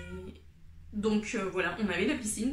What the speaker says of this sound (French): Désolée pour le chat qui miaule,